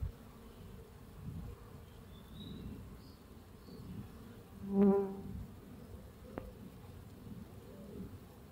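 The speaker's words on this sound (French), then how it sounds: "J'ai l'impression que c'est un essaim qui arrive" Bees swarming near a beehive at six in the morning, a steady low droning hum throughout with a brief louder buzz passing close midway, faint bird calls also audible in the background.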